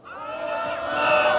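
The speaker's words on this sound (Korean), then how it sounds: "우리 박말숙 선생님께 큰 박수 부탁드립니다" A rally crowd at an outdoor square in Pohang cheers and applauds together, a continuous wash of many voices and clapping swelling steadily louder across the moment.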